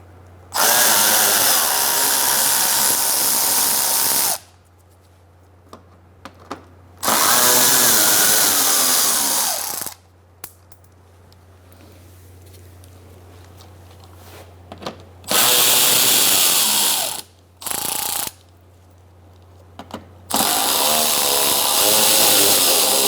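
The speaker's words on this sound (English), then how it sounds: "Using an 8mm socket, we're going to take out these bolts." A power tool with an 8mm socket spinning out bolts under a 2004-2009 Mazda 3, five loud high-pitched whirring bursts separated by quiet gaps, one short.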